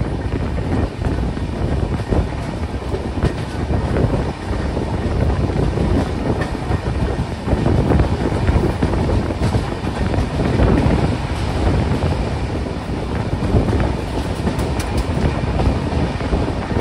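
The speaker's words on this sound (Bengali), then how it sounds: "ট্রেনটা ছেড়ে আসলো তিরুবনন্তপুরম সেন্ট্রাল স্টেশন থেকে" A train pulls away from Thiruvananthapuram Central station, a loud steady rumble with rhythmic clickety-clack of wheels on rails and wind rushing past, heard from inside.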